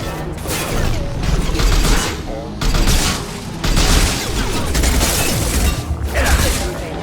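Sci-fi combat in the video game Mass Effect, with concussive shots and rapid gunfire booming in repeated bursts while voices talk over the fight.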